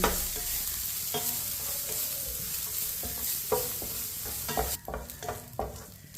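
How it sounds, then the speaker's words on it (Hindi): Vermicelli cooking in a pan over a low flame while a spoon stirs it, giving a close, continuous soft sizzle broken by repeated scraping strokes. "सौंगी को 2 मिनट के लिए इसी तरह चम्मच लाते हुए पका लेंगे"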